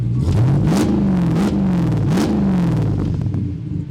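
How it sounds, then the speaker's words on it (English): A loud Jeep engine, a 1,000-horsepower Elephant engine, revs up twice, the pitch rising and falling with each throttle blip, then settles into a steady deep rumble. "All right, Ethan, give me a little rev."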